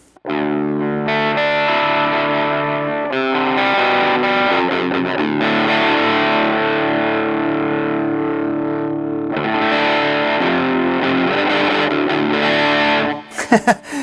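Electric guitar strummed through a distortion pedal set to a milder, crunchy gain, with chords ringing out loud and sustained, pausing briefly between phrases.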